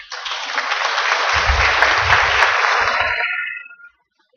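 An audience at an archives symposium applauds a guest speaker, a dense, even burst of clapping that holds steady for several seconds, then tapers and stops abruptly into silence.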